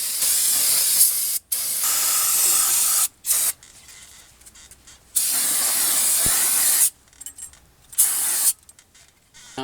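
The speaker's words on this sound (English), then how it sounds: "I'm just going to clean this up a little bit with some brake cleaner" Brake cleaner sprayed from an aerosol can onto a brake rotor on a 1996 Infiniti I30, several loud close hissing bursts of a few seconds each separated by short pauses.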